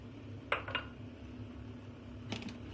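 Garlic and tomatoes dropping into a plastic jug while pickling tomatoes, making a couple of short clinking knocks early and another brief cluster of knocks later over a quiet kitchen hum.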